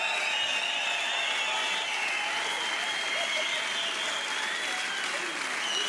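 A large concert audience claps in unison to the beat, continuous and loud, a dense wash of clapping that holds steady throughout.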